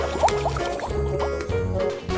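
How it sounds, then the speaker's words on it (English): Soap squelching and liquid trickling as it wipes black ink off a paper craft, a wet, squishy sound set against steady background music. "Let's use this soap to clean it up."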